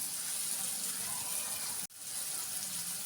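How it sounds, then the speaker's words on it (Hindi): Water pours into a cooking pan of onions and tomatoes, a steady rushing gush that breaks off briefly midway and then resumes, close and continuous. "मैं इसके अंदर ये थोड़ा सा पानी डाल रहा हूँ कि हमारी प्याज नरम पड़े और टमाटर इसमें घुल जाए"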